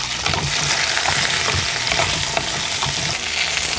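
Small onions and garlic sautéing in a pan, a continuous close crackling sizzle with light stirring scrapes, steady and even throughout with no voices.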